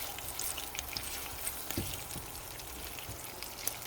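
Ramen sizzles and fries in a pan as it is flipped, a faint, steady crackle with scattered small pops and one sharper knock midway, no voices.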